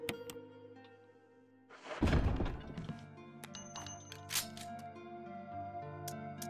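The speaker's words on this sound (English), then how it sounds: "Let's reload the pistol real quick." Pistol reloaded in the Resident Evil Remake game: a solid mechanical thunk as the magazine seats, followed by lighter clicks and handling over a steady game ambience.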